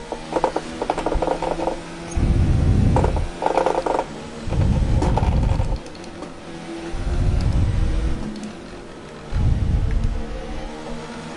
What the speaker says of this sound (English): Revving the hell out the engine, like.